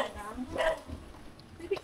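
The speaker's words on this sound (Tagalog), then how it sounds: "Dito tayo kasi maingay yung aso." A dog barks a few short, sharp times nearby while people talk over it, the barks rising briefly above the conversation.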